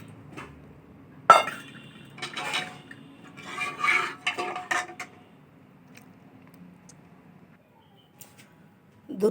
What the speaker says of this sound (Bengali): গরম দুধে সব কিছুর সঙ্গে ক্যারামেলটা মিশিয়ে দিলাম।